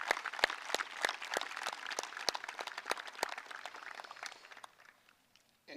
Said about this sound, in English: let's cheer her on to a victory in states